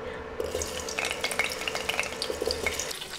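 Potato pieces sizzle steadily in hot oil while being stirred for chicken biryani. A spatula scrapes and taps against the pan now and then, and no one speaks.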